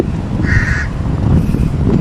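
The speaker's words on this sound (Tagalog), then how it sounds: "maririnig mo yung huni ng uwak" A crow gives a single clear caw at a company housing compound, heard over a steady low rumble of background noise.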